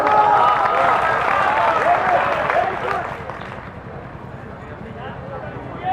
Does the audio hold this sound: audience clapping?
yes